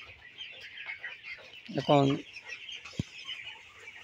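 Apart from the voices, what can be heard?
chickens clucking on a poultry farm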